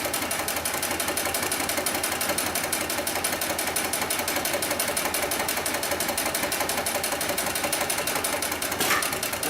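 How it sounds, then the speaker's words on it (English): A Cowboy Hightex 7273 heavy-duty flatbed sewing machine stitches through four layers of heavy-duty webbing, running as a loud, steady, rapid mechanical chatter close by with no pauses. "then we'll go ahead and sew through 4 layers of this heavy-duty webbing"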